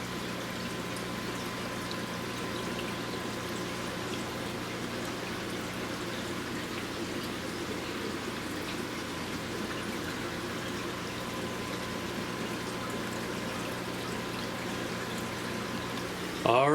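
Water pouring steadily during a fish room aquarium water change, a continuous, moderately quiet rushing flow with a faint hum beneath, ending in a brief louder splash.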